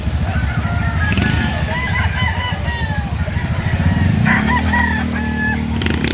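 Roosters crowing repeatedly at a chicken market in Lipa City, Batangas, several overlapping calls over a loud constant engine rumble, with a sharp rise near the end and faint voices.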